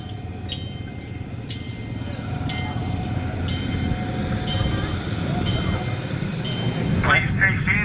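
Amusement park train ride at Land of Make Believe in Hope, New Jersey, rolling with a steady low rumble and regular periodic clicks from the track, ending in a brief squeal as it slows.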